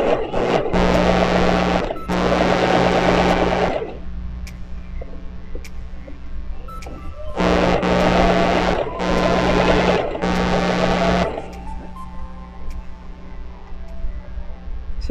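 A portable sewing machine fitted with a gathering ruffle foot runs in several loud, steady whirring bursts of a few seconds each, separated by quieter pauses, close up with no talking.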